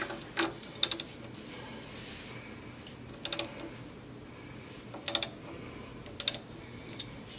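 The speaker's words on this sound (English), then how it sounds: "it looks like I might have to use the ratchet on it here" A ratchet wrench works loose the oil filter on a 2019 Mazda Miata, giving several short bursts of quick, crisp clicking close by, with quiet gaps between them and no talk.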